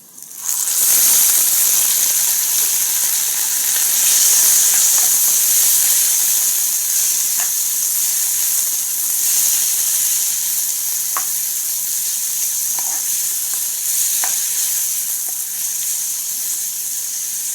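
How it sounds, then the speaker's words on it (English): Tomatoes hit a pan of frying onions and sizzle loudly and steadily close up, with a constant bright hiss and a few faint clinks from stirring. "I'm going to add in my tomatoes."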